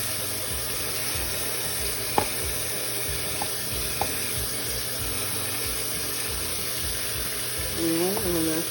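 Spaghetti ingredients being washed in a kitchen sink make a steady rush of running tap water with a few faint knocks and clatters, close by, and a voice speaks over it near the end.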